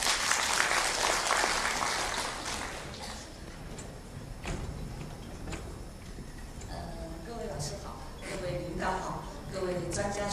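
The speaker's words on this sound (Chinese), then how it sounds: "大家掌声欢迎。" An audience at a university opening ceremony claps, a dense burst of applause at first that thins into scattered claps, with a voice speaking toward the end.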